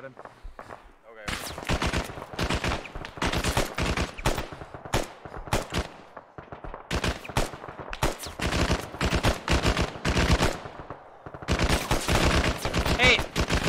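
Heavy suppressing gunfire in ARMA, with long rapid bursts of automatic rounds and loud cracks, broken by short pauses and running nearly the whole time, while voices talk intermittently.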